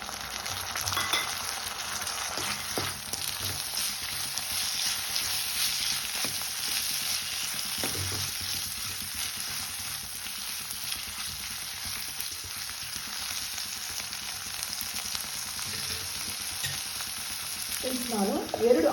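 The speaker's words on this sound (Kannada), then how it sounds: "ಈಗ ನಾನು ಹಸಿ ಬಟಾಣಿ ಆ್ಯಡ್ ಮಾಡ್ತಿದ್ದೇನೆ" Raw green peas fry and sizzle steadily in a hot pan for Bombay-style aloo sagu, with a dense continuous hiss broken by occasional scraping stirs and a louder clatter near the end.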